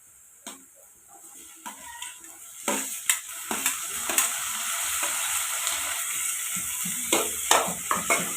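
Fried onions sizzle softly in a pan, then tomatoes are added and the sizzle swells. Sharp scrapes and taps of a spoon against the pan recur through the rising, steady frying.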